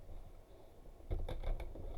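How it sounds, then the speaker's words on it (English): Tarot cards being shuffled by hand, a short burst of several quick riffling flicks that arrives after a second of quiet room tone. "Quick shuffle here."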